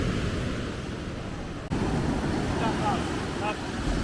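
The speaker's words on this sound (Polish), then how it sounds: "Strasznie wciągają fale." Ocean waves and surf with a strong current at El Paredón beach on Guatemala's Pacific coast, a steady close rushing wash under wind noise with a brief dropout midway.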